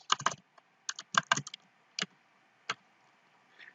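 Typing on a computer keyboard while writing Selenium code, heard as close, crisp key clicks in irregular bursts and single taps with short pauses between them, no voices present.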